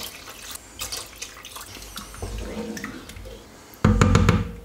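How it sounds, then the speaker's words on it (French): Water is poured into a cooking pot to cover a vegan mafe stew, making close splashing and trickling with a louder, fuller gush near the end. "On couvre d'eau de nouveau."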